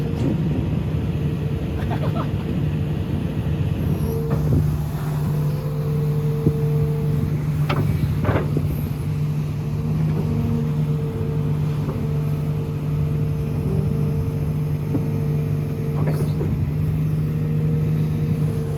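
A construction excavator's diesel engine runs steadily at idle with a continuous low hum and drone, close and constant throughout, with occasional faint clanks and knocks over the top.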